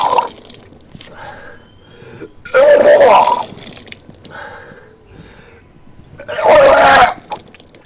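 Two loud gushing bursts of water being vomited during Kunjal Kriya yogic cleansing, separated by quieter breathing and dripping sounds, close up.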